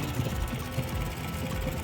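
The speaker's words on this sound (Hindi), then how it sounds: "फाइनली जी इंजन स्टार्ट हो गए" A boat engine idles on the Indus River with a steady, rough low rumble and knocking throb. It is close and fairly loud, with no speech over it.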